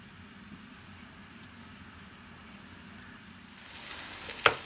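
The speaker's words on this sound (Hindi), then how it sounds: "अब इसमें डालेंगे हम प्याज को हम ब्राउन करेंगे।" A soft, steady sizzle of onions frying in oil in a pan for mutton karahi, swelling louder near the end with a sharp clatter.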